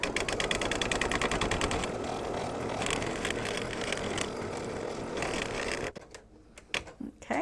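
An embroidery machine runs a tack-down stitch on the background fabric of an in-the-hoop mug rug, a fast, steady mechanical rattle and ticking that goes on for about six seconds, then stops, leaving a few faint clicks.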